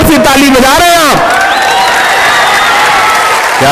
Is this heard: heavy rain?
no